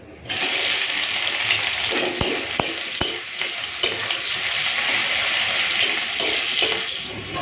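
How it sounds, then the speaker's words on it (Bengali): Onion and garlic frying in hot mustard oil, a steady close sizzle with a few sharp clicks of a utensil stirring against the pan, no talking. "পেঁয়াজ আর রসুনটা ভাজা ভাজা করে নিয়েছি"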